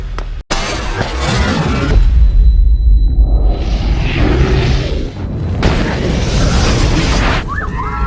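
A loud, heavy explosion from a film scene about mercenaries, a deep boom with rushing whooshes and rumbling debris that swells, fades and bursts again for several seconds, with no talk over it.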